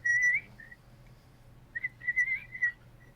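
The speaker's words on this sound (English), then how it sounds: "Hear that stupid whistle" A whistle shrills in short, high bursts: one long blast, a pause, then a quick cluster of several blasts, fairly faint against a low steady hum.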